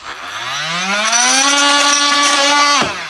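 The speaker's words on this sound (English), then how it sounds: "the way we do that is with this tool, and that's called a multi-tool" A loud, close buzzing motor whine from an oscillating multi-tool cutting, climbing in pitch, holding steady for a couple of seconds, then abruptly cutting off.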